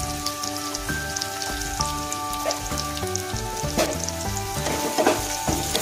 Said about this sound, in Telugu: నూనె వేడెక్కాక కొంచెం జీలకర్ర, కట్ చేసి పెట్టుకున్న ఉల్లిగడ్డ వేసి కలుపుకొని అలాగే పచ్చిమిర్చి వేసి కలుపుకోవాలి